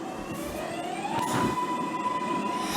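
A NYC subway train braking to a stop in the OpenBVE simulator, with a whining brake tone sliding up in pitch and then holding steady over a rumbling, rattling car.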